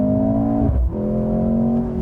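A 2025 Mercedes-AMG GLC 43 luxury SUV accelerating hard on a 0-60 run, its engine note climbing steadily, briefly dropping at a gear shift, then climbing again, loud and close from inside the cabin.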